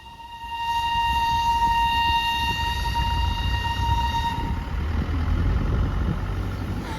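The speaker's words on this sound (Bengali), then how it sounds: "টয় ট্রেনের হুইসেল শুনে দীপু তো খুবই আনন্দ পেয়েছে।" The Darjeeling toy train sounds a loud, sustained steady whistle for about four seconds while its engine and carriages rumble past nearby, the rolling noise continuing after the whistle stops.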